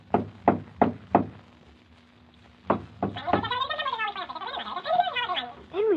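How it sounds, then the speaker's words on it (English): For an old radio drama, a door knocker raps four times in quick succession, then twice more after a pause, followed by a garbled, gargling voice and talking. "he jumped onto the door knocker and swung back and forth on it"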